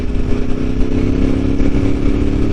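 A Ducati 748R V-twin sport bike with a dry clutch idles and rumbles nearby, a loud, uneven low throb with a faint rattling clatter running steadily throughout, no voices.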